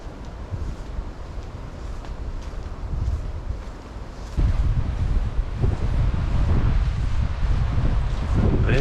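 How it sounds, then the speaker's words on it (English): Wind buffets the microphone on a boat heading to Lady Musgrave Island, a steady low roar that grows louder and rougher partway through, with water and hull noise underneath. "There's the wind again."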